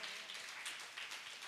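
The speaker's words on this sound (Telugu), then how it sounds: "చప్పట్లు కొట్టండి." A congregation claps during a Sunday church service. The applause is faint and distant, a steady wash of many hands for about a second and a half.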